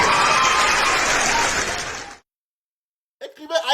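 Applause from an audience breaks out for a person named Aïcha, a loud dense burst lasting about two seconds before cutting off abruptly, followed by silence and then the start of talk.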